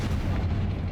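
A Confringo fire spell explodes in Hogwarts Legacy, filling the moment with a dense, booming blast of low rumble that stays steady and loud throughout the short burst, with no speech.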